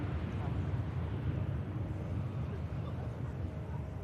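A TUI Boeing 787-8 Dreamliner airliner at Manchester Airport gives off a steady, dense low roar that holds at an even loudness throughout, with no clear voices on top.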